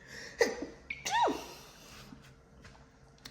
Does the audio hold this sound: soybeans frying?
no